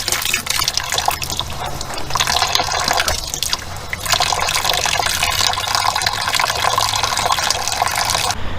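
Water gushes steadily through a car heater core during a coolant flush, flushing out rust, a loud continuous splashing rush lasting throughout with a brief dip in the middle.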